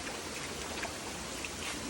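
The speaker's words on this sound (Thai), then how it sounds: "ที่นี่น้ำตกชันตะเถนนะคะ" Chan Ta Then waterfall in Chonburi, Thailand, pouring in a steady, dense wash of falling water that fills the whole clip at an even level, with no voices over it.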